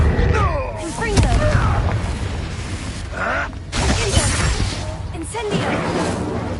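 Confringo blasting spell cast in Hogwarts Legacy, loud booming magical blasts with crashing impacts and whooshing effects layered over game sound and voices, several heavy bursts across the passage.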